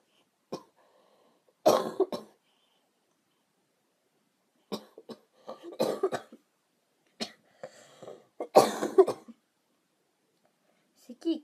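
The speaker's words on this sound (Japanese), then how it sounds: "咳一回出ると止まらなくなってくるの、出ないときは出ないのに。" A young woman coughs in several short bursts during a live stream, clustered fits of dry coughing separated by quiet pauses, close to the microphone with no speech over them.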